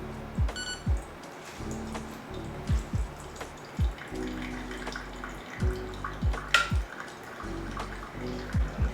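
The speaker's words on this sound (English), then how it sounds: "I'm gonna switch this out for this and drain all the water out." Water drains and trickles from a Flair 58 lever espresso maker, with a run of repeated dripping plinks and gurgles at a steady, uneven rhythm, close and fairly quiet, with no speech.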